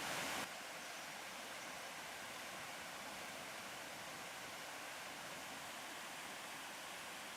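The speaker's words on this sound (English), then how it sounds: "down at this left-hand corner we find a sluice, and this controls the level in the basin" Excess canal water runs out through a sluice at the corner of a harbour basin, a steady, fairly faint broadband rush of flowing water that continues unbroken, with no voices.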